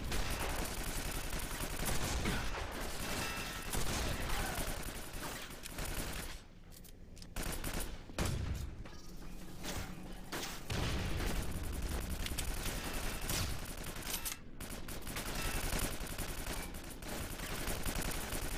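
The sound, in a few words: enemies shooting gunfire in video game Quake 4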